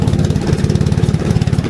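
Sujan Majhi's motor boat engine chugging steadily at close range, a loud, low, rapid rhythmic putter that holds even throughout with no voices over it.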